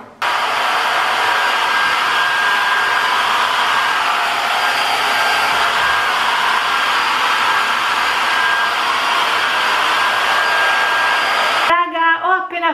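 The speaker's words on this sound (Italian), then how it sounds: "Arrivato a questo punto asciugo i capelli e ci vediamo dopo." Hair dryer blowing on hair after styling foam, a loud, steady close-up whirring roar that runs unbroken and then switches off, followed by a brief voice.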